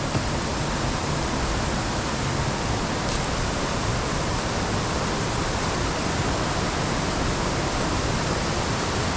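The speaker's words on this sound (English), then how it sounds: "And this is a Tulvaram waterfall." Thoovanam waterfall roars as a loud, dense, constant rush of falling water, close by and unbroken with no voices.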